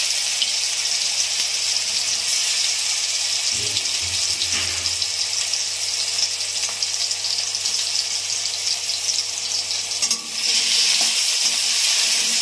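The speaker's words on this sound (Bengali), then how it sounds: "তেল গরম হয়ে গেছে, পুরটা ভেজে নিচ্ছি," Pumpkin filling frying in hot oil in a wok, a steady close sizzle and hiss throughout, with a few brief stirring scrapes and clatters.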